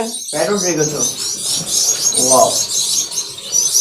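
Pet finches in an aviary chirp in a steady, busy high twitter, with voices talking over them near the start and again midway.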